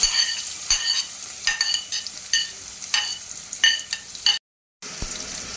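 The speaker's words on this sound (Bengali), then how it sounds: "এখন আমি দিয়ে দিব হচ্ছে পেঁয়াজ" Onions frying in a hot pan for a mutton head bhuna with chana dal, a steady broadband sizzle broken by repeated scraping stirs, close and loud, with a brief silent gap near the end.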